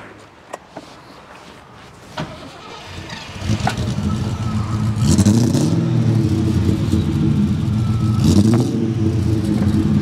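Rover SD1 with a V8 engine running, its exhaust note a deep, steady rumble that swells and throbs as the car pulls away under load, heard from inside the car.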